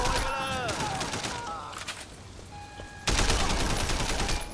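Gunfire in Sleeping Dogs, with rapid shots crackling in bursts under game sounds and voices. A dense, loud stretch of firing returns toward the end.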